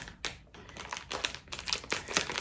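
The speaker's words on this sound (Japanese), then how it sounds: "ハサミでチョキチョキ。" Scissors snip open the plastic wrapping of a Nagasaki castella cake, giving close, crisp cuts mixed with rustling and crinkling of the package, with no talking.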